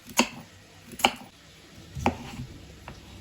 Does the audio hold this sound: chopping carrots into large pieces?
yes